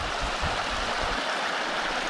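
Mountain stream water rushes steadily through a gorge in the Khibiny, Kola Peninsula, near the Kuniyok river, a loud, continuous broadband wash that holds even with no voices over it.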